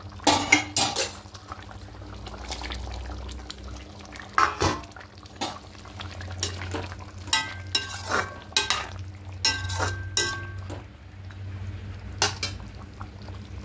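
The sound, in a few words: pointed gourds added and cooked in pot with potatoes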